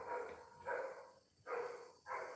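A dog barks in four loud, close bursts separated by short pauses, each bark sharp and full, with no one speaking over it.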